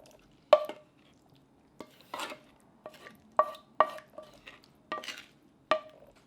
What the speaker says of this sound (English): we're going to just gently toss all this about and get it mixed up really well